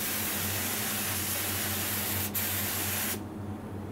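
An HVLP paint spray gun running at about 22 psi sprays thick epoxy with a loud, steady hissing rush of air that cuts off abruptly near the end, leaving a low hum behind.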